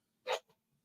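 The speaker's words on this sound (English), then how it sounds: "that cat's sneeze was loud." A single sharp, breathy sneeze from a cat, close and loud, followed by a tiny snort, then quiet.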